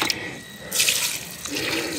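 Water poured from a container onto a freshly planted seedling in a garden plot, a splashing stream that starts, pauses briefly, then runs again steadily and close by.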